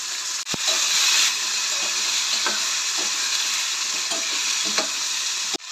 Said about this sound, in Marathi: सासवां, मेथी आणि आमाडे हांगसर आमी फोडणी मारून घेता आतां पयलीं.